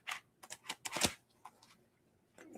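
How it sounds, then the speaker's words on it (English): Large, very stiff tarot cards being shuffled by hand: a series of crisp riffling and slapping bursts close up, separated by short pauses, with no talking. "Trying to shuffle these are huge, very stiff cards."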